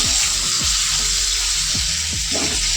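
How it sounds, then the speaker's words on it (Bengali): Steady loud sizzling of cut potatoes frying in hot oil with fried cumin, with a few soft scraping knocks from stirring. "এবার দিয়ে দেবো কটা কেটে রাখা আলু।"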